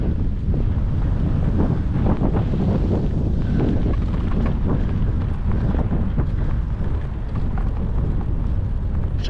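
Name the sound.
wind blowing while cycling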